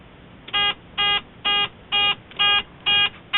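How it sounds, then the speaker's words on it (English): A loud electronic buzzer on a homebrew 6 and 10 meter SSB/CW radio with no power output sounds in seven short, evenly spaced bursts, each about a fifth of a second long with brief gaps of quiet between them. "the LED's on, a loud buzzer, and we key the radio, no power coming out."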